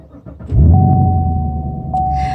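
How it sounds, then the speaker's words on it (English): A Chevrolet Camaro's motor is started and revved up, giving a loud close rumble that swells quickly and then holds steady at a high idle, with no talk over it. "I'm going to do my car's motor real quick."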